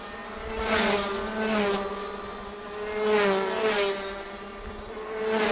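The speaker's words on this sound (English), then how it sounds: "3 karts together here for the lead pack, and Norberg leads the way." Several Rotax racing karts running together in a lead pack on the Homestead, Florida circuit, their buzzing engines rising and falling in pitch as they pass close by, loud and continuous.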